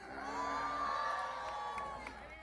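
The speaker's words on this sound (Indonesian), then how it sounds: "Tepuk tangan untuk Mbak Ika" Crowd cheering and whooping at a Gus Miftah gathering, a busy, moderately loud wash of raised voices and shouts that swells and holds for a couple of seconds.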